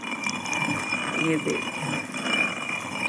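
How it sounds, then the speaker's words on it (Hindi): A hand-turned stone chakki grinds lentils with a steady, rasping mechanical churn that runs throughout, close by, while someone talks briefly over it. "ये देखो चकिया की आवाज़ आप सुन सकते हैं।"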